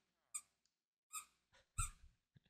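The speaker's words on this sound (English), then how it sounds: "dog squeaking on the toys again." A dog chews a squeaky toy, giving four or five sharp squeaks at irregular intervals. They come from nearby with quiet gaps between them and no talk.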